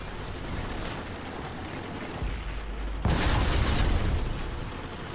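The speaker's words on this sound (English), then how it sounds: "Taking shots from a light tank to the left" A tank cannon fires in World of Tanks on Xbox, a dense booming blast that lands midway through over a constant loud roar of engine and battle noise, no talk.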